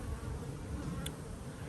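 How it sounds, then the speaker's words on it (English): Honeybee field force flying around an apiary hive, a steady low buzzing drone of many wings, close and continuous with no voices. "This is the field force coming and going."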